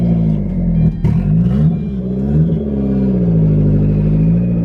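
A turbocharged Mazda Miata engine catches and revs, running loud and close with a steady idle rumble and a couple of brief throttle rises throughout.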